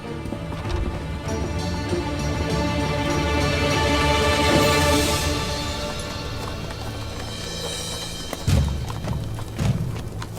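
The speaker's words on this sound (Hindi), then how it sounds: "अल्तुगा, घोड़े तैयार करो, हम अकहिसार जा रहे हैं।" Horses' hooves clip-clopping as riders set out in a historical drama, a busy layered patter that swells and fades under music, with a couple of louder thuds near the end and no voices.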